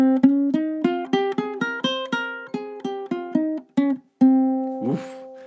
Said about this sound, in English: So Phrygian, well, it sounds something like this.